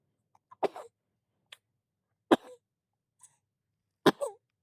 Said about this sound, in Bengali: কাশি ঠিক হয়েছে তোমার?